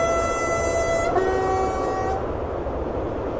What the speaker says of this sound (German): Der Zug verfügt über eine hohe und eine tiefe Pfeife.